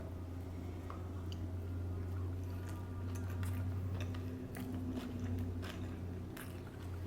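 Someone bites and chews a big lobster sushi roll up close. Soft, wet, squishy chewing with small crunchy ticks continues steadily over a low background hum.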